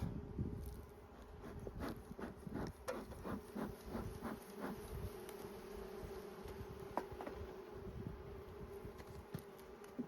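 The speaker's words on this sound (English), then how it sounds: "5 frames of bees." Honey bees swarm and buzz around five frames of an opened hive during an early-season inspection, a steady close drone with scattered louder passes and soft clicks of handling, no voices.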